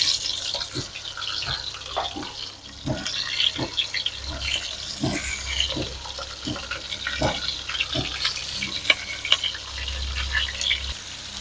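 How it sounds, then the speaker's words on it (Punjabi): Ivy gourd (kundru) frying in hot oil, a continuous crackling sizzle with repeated stirring scrapes and knocks, close and fairly loud. "ਆਪਾਂ ਪਾ ਦਾਂਗੇ ਵਿੱਚ ਕੁੰਦਰੂ ਕੁੰਦਰੂਆਂ ਦੀ ਆਪਾਂ ਅੱਜ ਸਬਜ਼ੀ ਬਣਾਵਾਂਗੇ ਮਸਾਲੇਦਾਰ ਕਰਾਰੀ ਕਰਾਰੀ"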